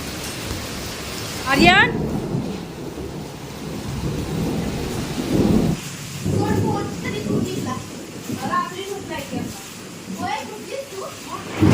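Heavy wind-driven rain pours steadily on a house while thunder rumbles, with a voice talking over the storm at intervals.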